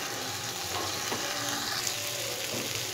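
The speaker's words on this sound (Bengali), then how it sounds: "ডালটা যে ভাজা ভাজা হয়ে এসছে" Dal cooked with goat liver sizzles steadily in a hot pan, a close, continuous frying hiss with faint stirring scrapes and no voices.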